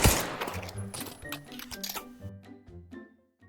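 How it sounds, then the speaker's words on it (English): Rapid bursts of MP40 submachine gun fire in the VR shooter Pavlov VR, a sharp loud volley at the start followed by shorter, fading bursts with brief pauses, no talking. "The MP40 is a World War II German submachine gun."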